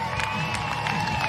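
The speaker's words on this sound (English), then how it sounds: "Give them a big round of applause" Crowd at a live STIHL Timbersports women's lumberjack competition applauds and cheers for the competitors, a steady dense wash of clapping with whoops and shouts, fairly loud and continuous.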